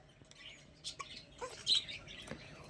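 Birds chirping outside on a hot, still day, a few brief faint tweets scattered over a quiet background, with the loudest chirp near the end of the second.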